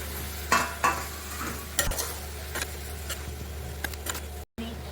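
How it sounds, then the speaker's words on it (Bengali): Prawns frying in a pan of cauliflower give a steady soft sizzle, broken by several sharp scrapes and clinks of a spatula stirring against the pan, close up and without talk. "এবার আমি চিংড়ি মাছগুলোকে দিয়ে দিচ্ছি।"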